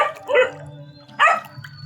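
Dogs bark at a cat in two sharp, close, loud bursts separated by a short pause, with a low background hum and no talking.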